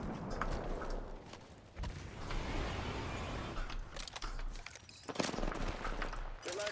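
Video game gunfire crackles in dense, overlapping bursts with mechanical clicks and creaks, fairly loud and steady across the whole stretch, with a few sharper shots standing out near the end.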